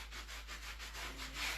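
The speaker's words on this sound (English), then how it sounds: "I'm sanding the upholstery." Furniture upholstery is sanded with a soft, rhythmic rubbing rasp, repeated back-and-forth strokes that are faint and close, with no talking.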